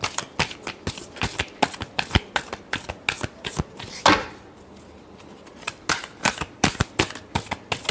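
Tarot cards are shuffled by hand in a rapid run of crisp riffling flicks, broken by a short pause midway before the rhythmic shuffling resumes, close and clear with no voices.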